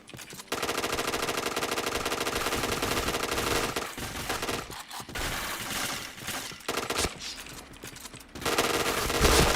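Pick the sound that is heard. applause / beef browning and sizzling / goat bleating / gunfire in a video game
gunfire in a video game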